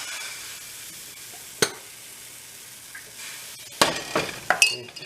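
Crepe batter spread across a hot pan gives a soft, faint sizzle, broken by several sharp clinks and taps of a utensil against the metal.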